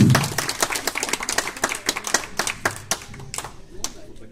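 Audience at a hypnosis stage show clapping for a volunteer leaving the stage, a dense patter of hand claps that starts strong, thins somewhat and carries on with a few louder claps near the end, with faint voices underneath.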